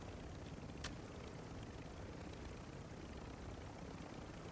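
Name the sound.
helicopter in a video game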